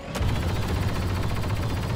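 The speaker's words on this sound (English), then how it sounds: "I'm just firing wherever I can here at the moment" Blaster gunfire during a Star Wars Battlefront 2 battle, a dense continuous rattle of shots with heavy low rumble, loud and sustained without a break.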